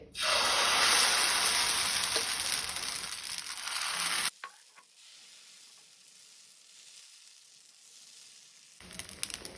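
Green gram dosa batter hits a hot tawa over a medium gas flame and sizzles loudly and steadily for about four seconds, then drops to a faint hiss before a few soft crackles return at the end.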